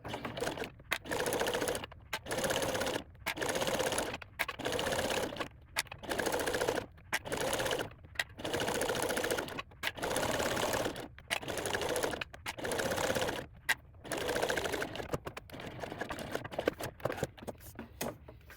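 A sewing machine fitted with a walking foot stitches a bag strap in repeated short bursts of rapid mechanical whirring, each run separated by brief pauses, close and steady with no talk.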